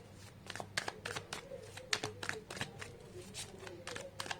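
Tarot cards being shuffled by hand in a quiet room, with a rapid series of crisp riffling flicks and soft slides repeating in irregular bursts, close and fairly faint.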